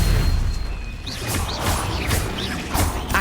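Spell-casting effects in Hogwarts Legacy, with fire and stunning spells and a protective shield: a rapid string of magical whooshes, bursts and booming impacts over a dense, continuous battle din, repeating every half second or so with no talking.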